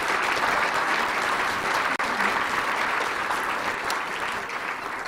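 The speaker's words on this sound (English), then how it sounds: "You can clap for him now, I guess." An audience at the Telegraph Herald First Citizen Award event gives a steady round of applause, a dense, sustained clapping from a crowded room lasting about five seconds.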